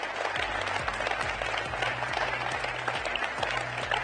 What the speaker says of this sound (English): So can we put a big round of applause together for you guys and the family?